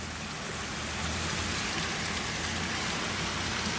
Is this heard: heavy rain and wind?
yes